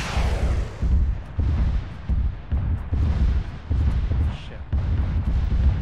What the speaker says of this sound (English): MLRS is coming in from the southwest.